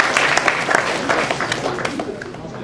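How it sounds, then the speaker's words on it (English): An audience claps in a round of applause at a leadership event, with steady dense clapping throughout and a few faint voices mixed in. "Give a big round of applause"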